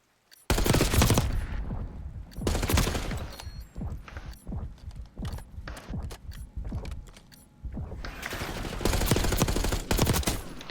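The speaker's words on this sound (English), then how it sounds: "great shots from both of us at the start" Rapid assault rifle fire in the video game Black Ops 6, loud close bursts of automatic shots. A long volley opens and another closes, with shorter clusters of shots in between.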